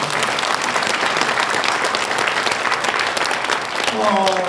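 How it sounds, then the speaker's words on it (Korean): Audience applause at a lecture event honoring a professor, a dense steady clapping from a crowd sustained throughout, fairly loud and close, with a brief voice entering near the end. "김학성 교수님에게 우리 박수 한번 드릴까요?"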